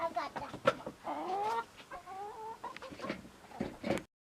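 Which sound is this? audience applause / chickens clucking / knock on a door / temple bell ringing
chickens clucking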